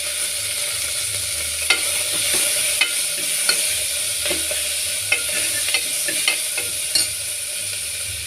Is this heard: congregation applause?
no